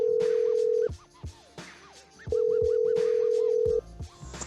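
A telephone dial tone sounds while a radio show host calls the next caller. Two long steady tones are broken by chirpy warbling electronic beeps and line noise, clear and prominent.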